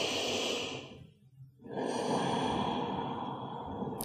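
Long, slow breaths during a winter yoga routine: a loud, close exhale fades into a brief pause, then another drawn-out breath follows steadily.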